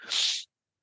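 A single brief, breathy sneeze, a hissing burst lasting under half a second, close by and then silence.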